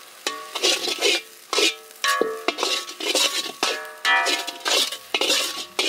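Guitar fish puttu being stirred in a pan, a utensil scraping and clinking against the metal in quick repeated strokes over a soft sizzle of frying, close and fairly loud, with no voices.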